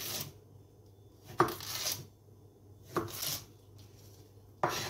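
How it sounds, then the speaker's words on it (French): A knife slices through a courgette on a cutting board, several sharp chops spaced out and separated by quiet pauses, close and distinct with no voices. "Et après vous allez les couper en deux. Encore en deux."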